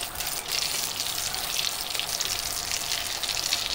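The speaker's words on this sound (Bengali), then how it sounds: "সবগুলো এইভাবে দেবেন দিয়ে আমি ব্রাউন করে ভেজে নেব।" Egg and potato chops frying in oil in a pan, producing a continuous dense crackling sizzle that stays even and fairly loud throughout, with no voices.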